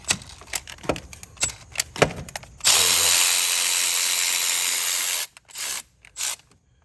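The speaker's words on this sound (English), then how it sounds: "Now I'm going to break it loose with the ratchet" A ratchet working on a bolt during a VW 2.0T timing chain job: a string of sharp clicks and clanks, then a sustained loud whirring burst for a few seconds, followed by short tool bursts and rattles.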